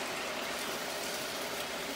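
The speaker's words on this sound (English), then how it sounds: "I like the sound of the sizzle." Vegetables sauté in a pan with a steady, even sizzle, a dense crackling hiss that holds close and unbroken with no talk over it.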